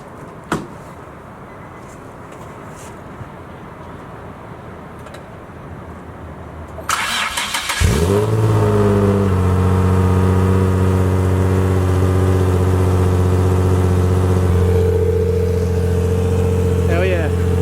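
A Nissan 350Z fitted with a new exhaust cranks and fires up after a quiet stretch, then settles into a loud, steady, fairly subdued idle with a slight rev near the end, close by.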